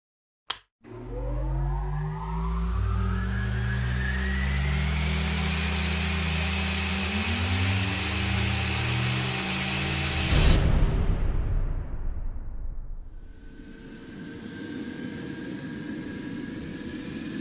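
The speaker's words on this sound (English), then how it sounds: "press the warp switch. We're just jumping you to the other side of Sector 42" A spaceship warp-jump engine in a VR game spools up with a rising, droning roar of layered tones that climbs for about ten seconds, then bursts into a loud whooshing jump before settling into a steady hum.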